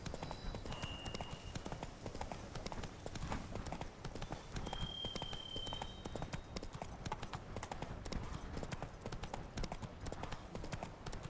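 Horse hooves clip-clop steadily on the ground in The Witcher 3 video game, a continuous rhythmic trot running throughout over low ambient game sound.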